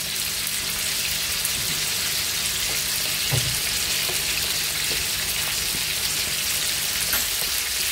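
Thick turkey pieces sizzle in a pan, a constant close hiss of frying with a few faint clicks and light scrapes scattered through.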